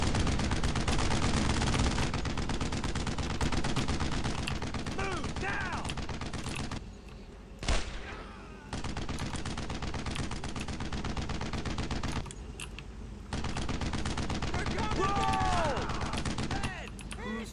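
Rapid machine-gun and rifle fire in the World War II shooter Brothers in Arms, loud sustained bursts with short lulls, under shouted voices and battle noise.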